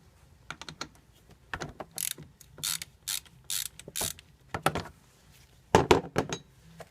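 A ratchet wrench loosens the 10mm battery terminal bolt on a Toyota Sienna with a 3.5L V6, giving close, sharp bursts of rapid clicking separated by short pauses.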